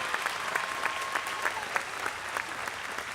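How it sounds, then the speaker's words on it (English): An audience at an undergraduate commencement ceremony gives a steady round of applause, a dense wash of many hands clapping at constant volume with scattered sharper claps throughout, sounding like a large crowd in a big hall. "Let's give her a round of applause."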